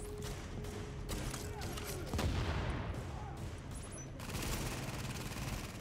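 Gunfire during a boss fight in the video game The Division, with dense, sustained bursts of shots and booms over busy game noise. Loud and continuous, with a louder impact around the middle.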